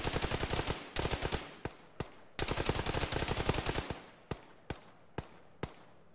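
Rapid bursts of automatic gunfire in a military shooter game (Arma-style squad play), two long volleys followed by several single sharp shots spaced apart, loud and close.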